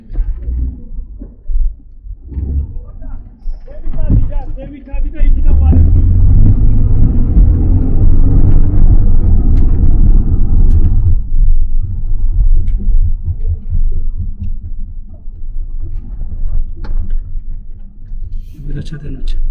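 Cars queuing and creeping forward at the Georgia–Armenia border crossing give a loud, low engine rumble that swells up and holds for several seconds before easing, with people talking nearby over and between the vehicle noise.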